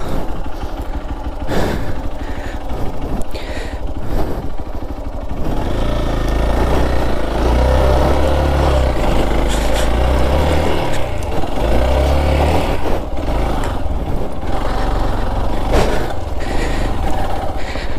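A scooter engine revs and runs continuously during an off-road ride, a loud, steady mechanical drone with rough bumps and rattles throughout.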